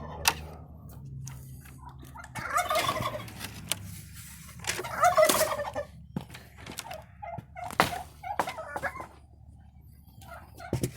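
A big farm flock of turkeys gobbles in several loud, rattling bursts, some close and some farther off. Quiet thumps and clicks fall in the gaps between the calls.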